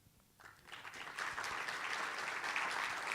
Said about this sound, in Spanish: Un fuerte aplauso para la doctora.